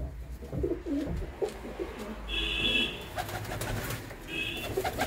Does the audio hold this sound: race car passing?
no